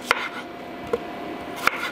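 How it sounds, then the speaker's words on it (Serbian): A kitchen knife chops onions on a cutting board with three sharp, separate strikes spaced well apart. The strikes are close and crisp, with quiet room tone between them and no talking. "iseći ću 3 glavice crnog luka."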